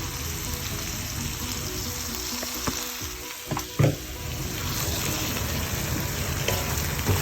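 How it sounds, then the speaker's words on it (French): Chicken noodles seasoned with pepper and sweet soy sauce are stirred in a hot pan, giving a continuous close sizzle with a few brief scraping and tapping stir sounds partway through, and no one talking. "On va remuer."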